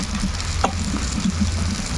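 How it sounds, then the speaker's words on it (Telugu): Bajji fritters crackle and sizzle steadily in hot oil, a dense, loud, continuous frying hiss with occasional small pops and no voices. "అక్కడ ఆయిల్ కూడా కాయిపోయింది చూడు. బజ్జీలు వేస్తున్నాను."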